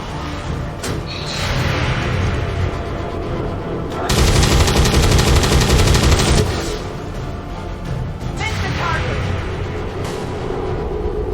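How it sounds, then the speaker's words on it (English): Sustained gunfire in XCOM 2, a dense rattling barrage lasting several seconds with a louder stretch in the middle, amid ongoing battle noise. "Why are you shooting at that guy?"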